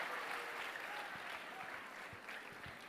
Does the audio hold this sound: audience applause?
yes